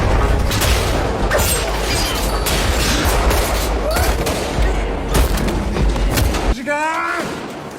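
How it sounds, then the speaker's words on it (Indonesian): Loud, dense gunfire from a movie shootout involving an elite squad disguised as yakuza, with rapid bursts and booms continuing for several seconds before cutting off sharply near the end. "Taka datang dan langsung ikut andil dalam baku tembak tersebut"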